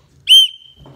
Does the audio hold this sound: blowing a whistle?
yes